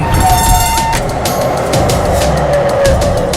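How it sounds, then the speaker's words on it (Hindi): A tram passing at a station in a movie scene, a loud rumbling rush of wheels on rails with metallic squeals and whining tones, blended with dramatic soundtrack layers throughout. "ट्राम ने रागिनी के व्यू को ब्लॉक कर दिया।"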